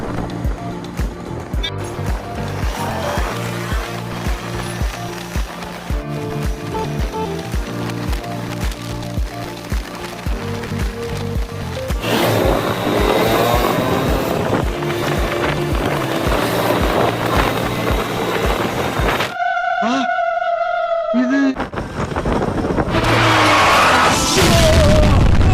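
A Yamaha RX 135 motorcycle rides along during a mileage test, a steady loud engine drone mixed with heavy wind rush that grows rougher midway, then breaks into a brief gap with whistling tones.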